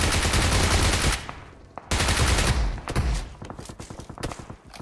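Shotguns fire in an intense battle royale video game, loud dense bursts of gunfire that drop off into a brief lull, then a second volley breaking into rapid separate shots, close and with no speech.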